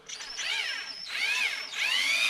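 A power drill whirs in three rising and falling bursts, close and loud, with no talking, while working on an Air Arms S410 Classic air rifle.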